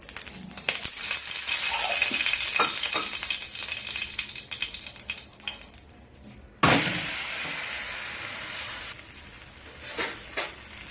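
Thalipeeth fries on a hot oiled griddle with a bright, steady sizzle, broken midway by a sudden loud hiss and burst as more batter or oil hits the pan, followed by occasional clinks.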